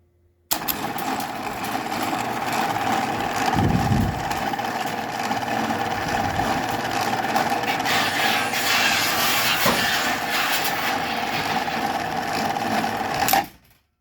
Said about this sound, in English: So when the motor is running, this little clutch pin does go in.